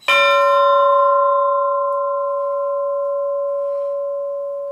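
A 35-kilogram church bell struck once, its deep, rich tone ringing out loud and then sustaining with a long, slowly fading hum.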